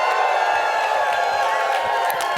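An audience at a spiritual celebration screams, whoops and cheers together in a loud, dense, continuous roar.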